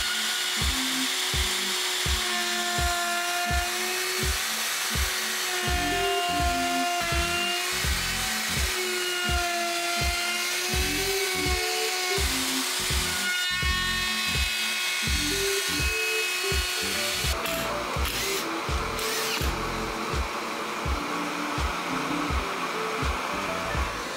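A power tool whines steadily as it cuts a circle counterclockwise into a wooden bread board, the pitch wavering under load with rapid rhythmic chatter; close and loud throughout, with rougher grinding near the end.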